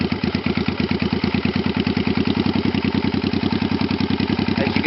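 A Honda Shadow VT500 bobber motorcycle that has sat unused for three years idles steadily through its exhaust, a loud, close, rapid even pulsing rumble with a slight clatter and no voices.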